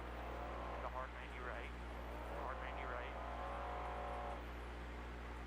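An older unlimited off-road race truck built by ID Designs runs with a steady, low engine drone at a Baja Nevada desert race, while someone talks over it throughout.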